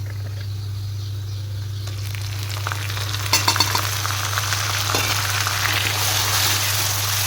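Browned onions and freshly added tomatoes fry in a pan with a continuous close sizzle that grows denser partway through, over a low steady electrical hum.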